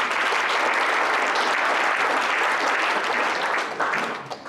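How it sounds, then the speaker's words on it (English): An audience at a university all-staff meeting gives a full, steady round of applause that holds at a constant level and begins to fade near the end. "So a big round of applause for humanists everywhere."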